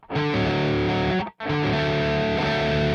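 A distorted electric guitar rings out a two-note interval twice, each sustained for over a second with a short silent gap between, loud and saturated with no talking.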